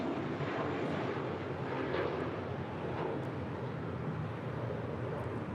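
JetBlue Airways Airbus A321 departing LAX for JFK, a steady broad jet engine roar heard from a distance, continuous and even throughout with no voices.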